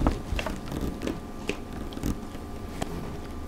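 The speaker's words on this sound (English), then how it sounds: "Taking a bite." A bite into a hotdog topped with sauerkraut warmed in a small electric lunch oven, followed by soft close chewing and a few crisp crunches.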